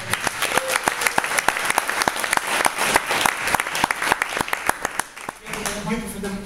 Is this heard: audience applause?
yes